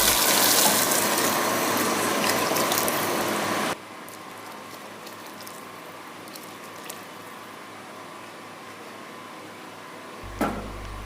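Hot boiling water gushes into a pot of matar pulao with peas and rice, a loud, close, steady pouring rush that stops abruptly after about four seconds, leaving a quiet cooking hiss and a brief clatter near the end.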